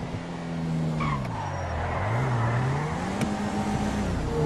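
A car in GTA 5, a Skyliner, races with a steady loud engine drone that dips and climbs as it shifts, plus brief tire skids, all close and continuous.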